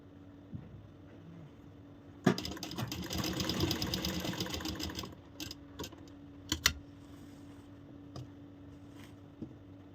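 A sewing machine stitching a boned corset blouse runs in a short burst of close mechanical whirring, followed by scattered clicks and taps as the fabric is adjusted, all fairly quiet with no voices.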